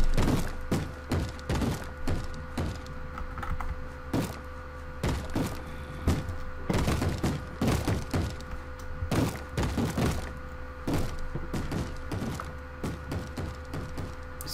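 Repeated wooden thuds and knocks of doors being banged on inside a Minecraft world, irregular bursts of loud impacts spread across the whole stretch over a low steady background.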